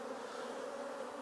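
Honey bees buzz at an open hive during an inspection of a borage-fed colony and its super, a steady close drone holding evenly through the whole moment without any voices.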